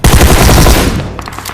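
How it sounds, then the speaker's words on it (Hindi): Rapid automatic gunfire in a shooting video game, a loud dense burst of shots for most of a second that thins into scattered, more distant reports. "यहाँ से गोलियां चलने की आवाज आ रही थी"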